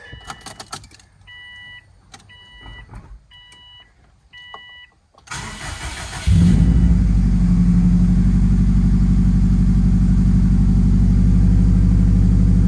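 Keys jangle and rattle before a 2004 Subaru STI engine cranks and fires after a valve cover gasket replacement, then settles into a loud, steady idle.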